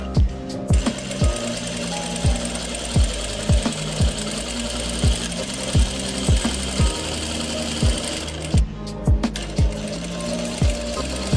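A sewing machine stitches a second seam line on a straight palazzo, running steadily in a quick, even rhythm of mechanical thumps with a short pause near the end, close and with no talking.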